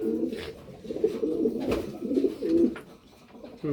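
Pigeons in a breeding loft coo in close, repeated throaty bursts, several calls overlapping with short pauses between, with no talking.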